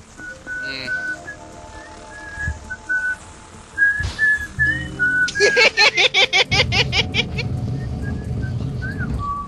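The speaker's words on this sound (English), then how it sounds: "I didn't say anything about whistling." Someone whistles a tune during a Legend of Zelda: Twilight Princess playthrough, with clear melodic notes at first, then a burst of rapid repeated whistles, close and loud, with game sounds in the background.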